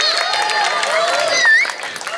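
At a Balinese Calonarang performance, a crowd claps for the gamelan musicians, a short burst of applause mixed with audience chatter and sustained ringing tones.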